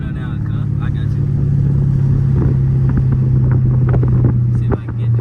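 A Chrysler 300 SRT 392 V8 rumbles steadily through its exhaust, with a few sharp pops breaking through the drone. Voices talk over the engine noise.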